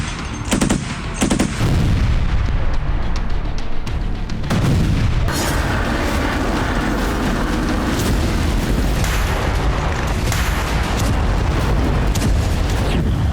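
Artillery explosions in war footage from Ukraine, a few sharp blasts at first and then a loud, dense run of booms and gunfire layered over constant rumble, with no speech.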